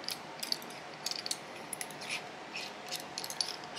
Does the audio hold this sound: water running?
no